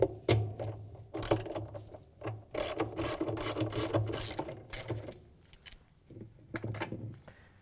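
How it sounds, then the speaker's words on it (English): Ratchet with extension and a 1/2-inch socket turning out the agitator bolt in a Frigidaire/Electrolux washer, quick clicking bursts of the pawl in irregular runs, close and fairly quiet, with short pauses between strokes. "use our 1/2-inch socket with a ratchet and extension and take the bolt out that holds the agitator in"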